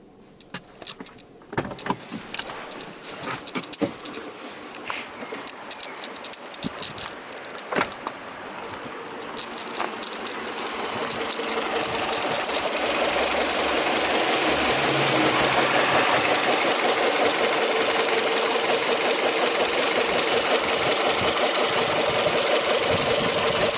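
A Renault Clio 3 engine idling, heard from inside with all the windows shut: a steady muffled hum with faint ticking and clicks early on, then a louder, fuller constant drone, no talking.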